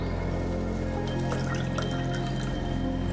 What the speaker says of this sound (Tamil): நான் மிச்சத்துக்கு தண்ணியை தான் ஊற்றிக்க போகிறேன்.